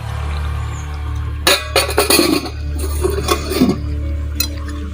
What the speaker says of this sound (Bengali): দেখো মা এবার ঢাকাটা সরিয়ে নিচ্ছে।